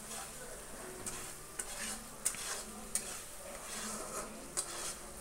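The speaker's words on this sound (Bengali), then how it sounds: "আলু গাটিটাকে দিয়ে এবার আমি একটু সময় কষিয়ে নিচ্ছি।" Potato pieces stirred in hot spiced oil in a pan for a hilsa fish-head curry: a continuous close sizzle with periodic sharp clinks and scrapes of the spatula against the pan.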